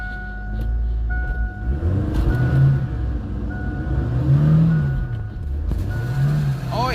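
A 1949 Cummins diesel in an old truck with a rusty exhaust pulls hard and loud up close, its low rumble climbing in pitch through the gears, with a steady beeping tone and a voice talking over it.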